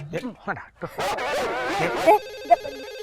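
A phone's electronic ringtone starts after a burst of talking and laughter, its repeating tones ringing clearly at close range.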